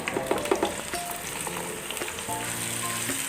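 Finely chopped onions, about three large ones, sizzle and fry steadily in a pan while being cooked to light golden for mutton liver (kaleji) curry, with occasional stirring clatter over a continuous close hiss.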